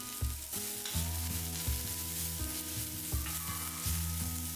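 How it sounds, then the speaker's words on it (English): Methi leaves, chopped garlic, cumin seeds, ajwain and turmeric sizzling in hot oil in a home kitchen, a steady frying hiss with periodic stirring scrapes, close and continuous with no talking. "So in some oil, I'll add cumin seeds, ajwain, turmeric, chopped garlic and methi leaves and saute it well."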